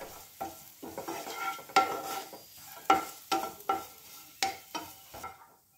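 Dry fruits being fried and stirred in a pan for dry fruit laddu, with repeated scraping strokes of a spoon against the pan over a soft sizzle, close and fairly loud, with no one talking.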